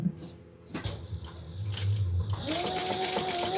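A sewing machine stitches around the inside of a pocket piece, whirring in short runs with mechanical clicks and a rising motor hum, while a voice talks faintly underneath.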